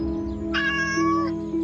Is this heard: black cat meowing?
yes